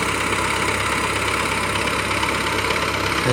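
Car engine idling loud and steady with no sound insulation, a dense droning rumble filling the cabin, continuous and close with no talk over it.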